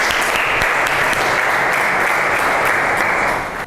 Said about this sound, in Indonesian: Tepuk tangan dulu untuk 3 kelompok ini.